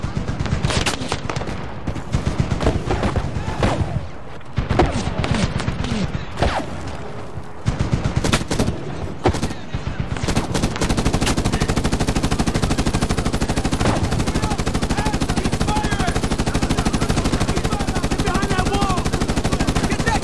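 Medal of Honor machine gun fire, first in choppy loud bursts, then settling into a sustained, dense, unbroken stream of rapid shots, close and dominant.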